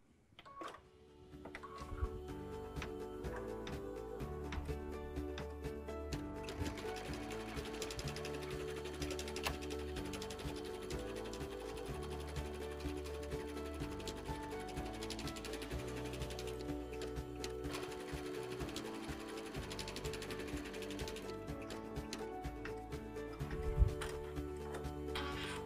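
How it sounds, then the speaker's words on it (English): An embroidery machine sews a placement stitch for a teacup design, a steady rapid mechanical clatter running continuously at close range for the whole stretch. "So now we're going to do the placement stitch for the teacup on top of the saucer."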